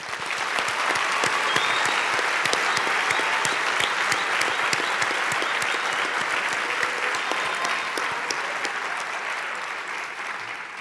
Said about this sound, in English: Please join me in one last round of applause for our graduates